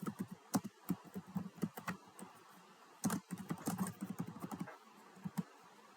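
Computer keyboard typing in bursts of quick, close keystrokes with short pauses between, entering school details into an admin interface; no one talks.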